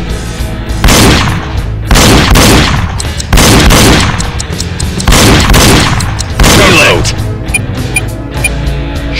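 Loud bursts of rapid gunfire from a Wii target-shooting game, Reload, come in several volleys of a second or so each, separated by brief lulls, with a game announcer's voice between shots.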